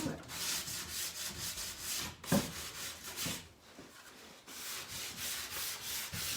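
Sandpaper rubs over furniture coated in Fusion Mineral Paint to distress it, a close, steady scratchy back-and-forth rasping with regular strokes and a brief pause midway.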